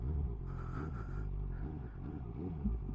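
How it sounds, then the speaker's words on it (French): A motorcycle engine at very low speed with the clutch slipping, given short throttle blips that rise and fall over a steady low idle rumble, close and fairly quiet. "je donne juste des coups d'accélération"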